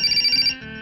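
A telephone rings on a movie soundtrack as a brief, bright electronic warbling ring, loud and close, which stops partway through, leaving low background noise.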